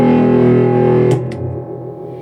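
Electric guitar through a Zendrive overdrive pedal on a pedalboard: a loud, sustained overdriven chord ringing out alone, then a brief pick scrape as it decays into a fading tail.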